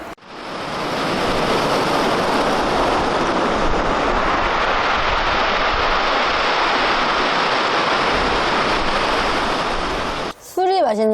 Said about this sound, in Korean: 파도 소리 나고 그러니까 아, 파도 소리 엄청나다